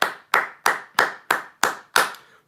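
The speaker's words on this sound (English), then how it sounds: "Let's give a round of applause for leftovers." Seven crisp hand claps ring out in a steady, even rhythm, close and fairly loud, each one decaying quickly before the next.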